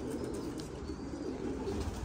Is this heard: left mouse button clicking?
no